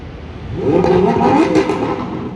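A car engine, likely a 2025 Range Rover Autobiography, revs up loudly nearby, rising to a brief roaring peak before easing off slightly.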